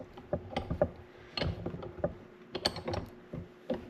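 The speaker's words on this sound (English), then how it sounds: "So I'll just reposition this in the vise." A John Deere pony motor distributor part being shifted in a bench vise, giving scattered metallic clicks, knocks and ratcheting clanks at close range, fairly quiet with no talk.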